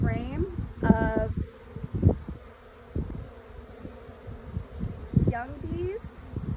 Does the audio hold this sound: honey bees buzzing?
yes